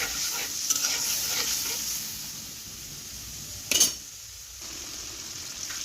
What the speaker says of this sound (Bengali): তেঁতুলটা টক, এই জন্য একটু সামান্য চিনি দিয়ে দেব, দিয়ে এটাকে কষিয়ে নেব।